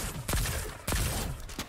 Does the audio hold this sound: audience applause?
no